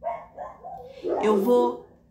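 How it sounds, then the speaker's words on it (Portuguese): Dogs barking outside, heard as a few nearby barks and yips mixed with someone talking over them. "Os cachorros estão latindo."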